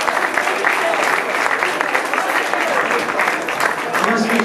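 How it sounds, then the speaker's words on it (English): An audience at a brass band contest gives dense, loud, sustained applause that fills the hall without a break. "Let's give a round of applause."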